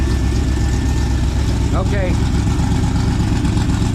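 Idling engine of a 1973 Chevrolet Corvette C3, a steady, loud low rumble that holds throughout, with a person speaking briefly over it.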